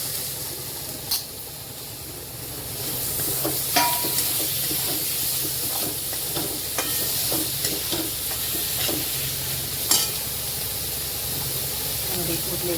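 Capsicum sizzles in a hot pan while cooking for pav bhaji, a steady frying hiss with occasional sharp crackles and stirring scrapes, with a voice speaking briefly over it.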